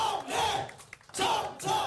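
A crowd at a summer political talk concert in Chungbuk cheers loudly for party leader candidate Jung Chung-rae, with two long, dense bursts of shouting and clapping around a brief lull in the middle.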